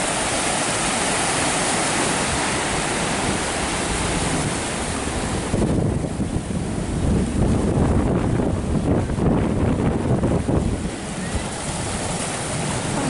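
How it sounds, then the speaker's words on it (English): Wind blows hard across a beach park at Ala Moana, a steady roar like surf that swells louder partway through, with no one talking. "Wind's picking up."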